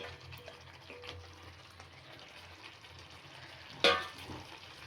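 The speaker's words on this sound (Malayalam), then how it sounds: "ആ വെള്ളം അത് നന്നായിട്ട് തിളച്ച് വരുമ്പോൾ അതിലേക്ക് നമുക്ക് ചിക്കൻ ഇട്ട് കൊടുക്കാം." Low bubbling and a quiet background hum, then a sudden splash and sizzle as chicken is dropped into boiling curry liquid.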